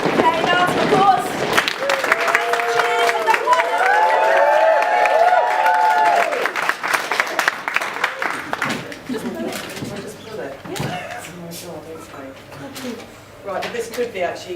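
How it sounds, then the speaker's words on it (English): An audience at a teachers' talk stamps its feet and then bursts into loud, sustained applause, with whoops, cheers and voices mixed in before the noise thins into scattered claps and chatter. "Let's start with stamping our feet. Okay, now to applause."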